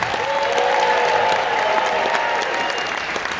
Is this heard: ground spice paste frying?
no